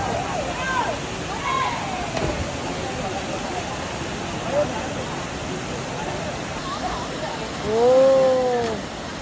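A waterfall on Siquijor rushes as a constant broadband roar, with people talking over it and a brief bright call near the end.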